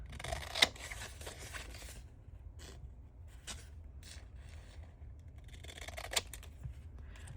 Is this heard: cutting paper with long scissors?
yes